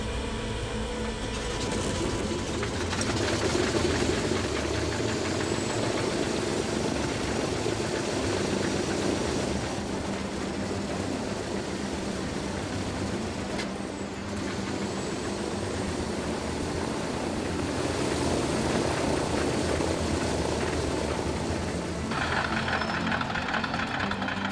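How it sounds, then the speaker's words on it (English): A WWII Catalina seaplane engine, stranded on Loch Ness, turns over and runs with a loud, steady, rumbling roar that holds for the whole stretch and shifts pitch slightly partway through and near the end. "The tension was palpable as the engine rotated on its starter."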